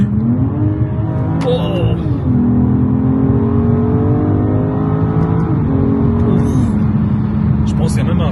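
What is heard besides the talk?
BMW M440i car engine revving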